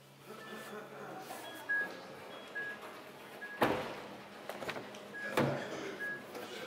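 The rear door of a Geely Emgrand Flagship automatic sedan opens, with two sharp latch-and-handle clunks a couple of seconds apart over a quiet interior and faint voice activity.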